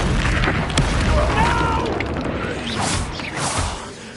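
A Confringo spell blast in Hogwarts Legacy, a close booming burst with whooshing energy and mechanical clatter, followed by further bursts as the fight continues.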